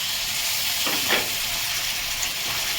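Spices frying in a pan before jackfruit and dried fish go in, a steady broadband sizzle and hiss with a brief louder burst of stirring near the middle, close and alone without talk.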